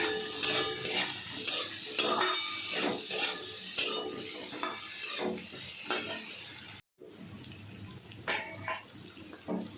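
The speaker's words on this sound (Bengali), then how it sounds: "তেজপাতা ফোড়ন দিয়ে কচুগুলোকে ভেজে নেব" Taro pieces frying in oil with bay leaf, turmeric and salt, stirred with a utensil that scrapes and clinks against the pan in repeated strokes over a steady close sizzle, with a brief break near the end.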